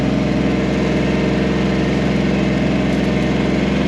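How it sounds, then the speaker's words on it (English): A loud diesel engine runs steadily at close range on a property, a constant low rumble with an even mechanical hum and no breaks or speech. "Not sure how well the audio is going to show up with the diesel engine. It's kind of loud behind us"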